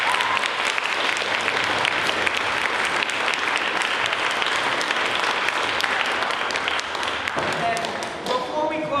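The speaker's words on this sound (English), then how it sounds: "Let's hear another round of applause for Akshat." Sustained audience applause fills a school spring concert hall, dense and even for most of the span before thinning out, with a voice starting to speak at the close.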